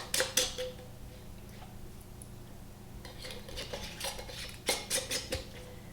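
Metal canning jar lids and rings being handled clink and tap against each other and a hard surface, several sharp close clatters scattered over a low steady background hum.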